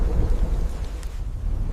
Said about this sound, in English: thunder rumbles through the trees